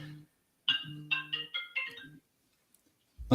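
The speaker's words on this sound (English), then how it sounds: "my watch keeps going off now" A smartwatch alert chimes as a short run of bright electronic tones with a low buzzing undertone, close and clear, followed by a pause and then a sharp louder burst near the end.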